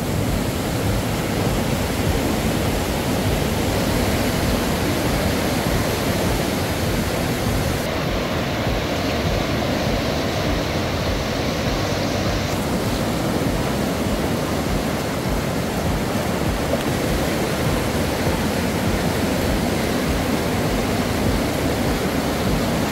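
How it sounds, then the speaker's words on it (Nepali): A river splits into two channels beside a stretch of flowering kans grass, a steady, broadband rushing of flowing water that continues unbroken throughout without any voices. "यहाँनेरि चाहिँ दर्शकबिन खोला दुईतर्फ बगेको छ"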